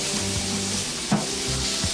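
Tofu scrambled eggs being stirred in a hot frying pan, a steady sizzle under a few scraping strokes of a utensil across the pan's surface, close and fairly loud.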